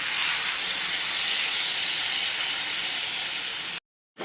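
Water poured into a pan of frying spices and vegetables for a mixed-vegetable fish curry, giving a loud, steady hiss and sizzle that fills nearly four seconds before cutting off abruptly.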